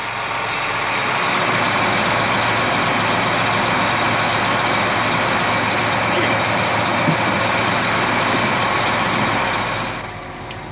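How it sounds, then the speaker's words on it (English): A truck or similar vehicle rumbles steadily close by on a rural road, a loud sustained engine drone that fades out near the end. "Someone just drove by, pulled over on the side of the road, took a couple pictures, waved, and kept driving."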